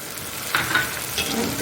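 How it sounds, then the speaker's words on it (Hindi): Ginger garlic paste and green chili sizzle among golden fried onions in a hot pan, a steady close frying hiss with brief stirring scrapes, and no one speaking. "अदरक लहसुन का पेस्ट, सब्ज़ मिर्ची अच्छे से भून कर उसके बाद डालेंगे टमाटर"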